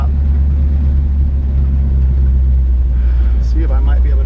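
A 1951 Chevrolet 3600 pickup truck's engine rumbles steadily from inside the cab with constant road noise while driving and braking, and a voice talks faintly near the end.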